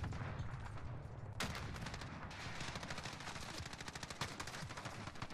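Rapid bursts of M13 assault rifle fire in Call of Duty, dense and continuous across the whole stretch, with a brief lull before the shooting intensifies again.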